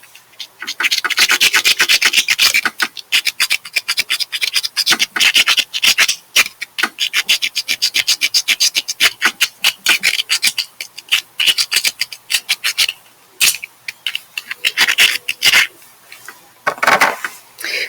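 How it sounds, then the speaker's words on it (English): Two rocks, one red and gritty, the other white and chalky, are scraped against each other, giving a loud, steady run of close gritty rasping strokes that grow choppier toward the end. "Now if I rub these two rocks together"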